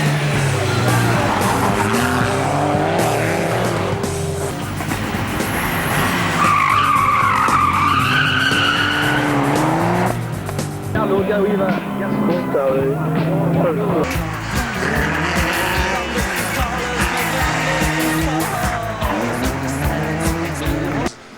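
An old Ford race car drives hard with a loud, continuous engine roar, rising and falling as it accelerates, with tires squealing and skidding through the corners; a voice talks over parts of it.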